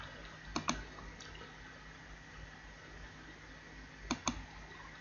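Keys on a computer keyboard click as an address is typed in for a cryptocurrency mining app, two brief faint clusters of taps separated by a quiet stretch.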